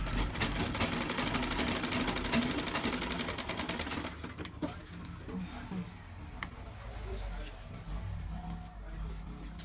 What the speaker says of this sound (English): You have to be very careful when you are sewing it